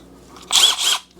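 A Milwaukee M12 driver briefly spinning to screw in a magnetic bit holder, a single half-second whir, close and clear.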